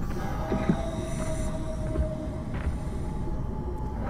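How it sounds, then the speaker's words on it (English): Whale call heard underwater in the video game SOMA, a faint, long, tonal moan drifting over a steady deep ocean rumble, with small clicks scattered through the dense ambience. "I hear a whale."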